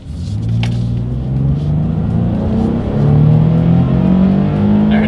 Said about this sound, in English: let's see how quickly we can get our new 2022 Nissan Frontier here up to speed